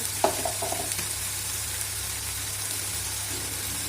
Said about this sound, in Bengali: মশলা আমি এবার একসঙ্গে দিয়ে দিব। হলুদ গুঁড়ো, লঙ্কা গুঁড়ো,